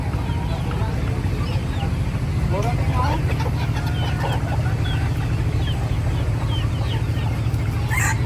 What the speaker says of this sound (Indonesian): Ini ada yang jualan ayam hidup.